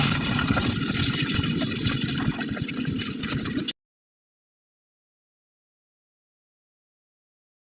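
Masala-marinated chicken pieces fry in hot oil for chicken rice, giving a dense, steady sizzle for a few seconds before it abruptly goes silent.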